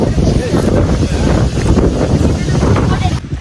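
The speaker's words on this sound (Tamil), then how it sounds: "செம்ம காத்துங்க" Strong outdoor wind on the way to a temple roars and buffets the microphone, a loud, dense rumble that continues without a break for the whole stretch.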